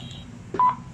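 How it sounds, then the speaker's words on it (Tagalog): A K12 mini karaoke speaker gives a single short electronic beep, clear and close, partway through an otherwise quiet moment. "Pag nakarinig na kayo ng beep, okay na"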